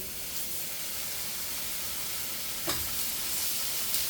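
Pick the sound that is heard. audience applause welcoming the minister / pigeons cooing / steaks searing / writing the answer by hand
steaks searing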